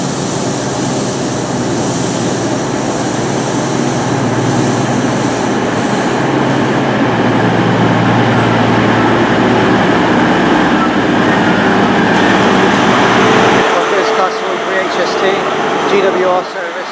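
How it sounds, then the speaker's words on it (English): A class 220 Cross-Country Voyager diesel train pulls away from a station platform on a Paignton service, its engines building into a loud, steady roar that drops off sharply near the end. "the Paignton train is literally about to leave. Train starting now. It's the class 220."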